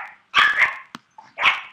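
A dog barks in three separate bursts, close and loud, with short gaps of quiet between them.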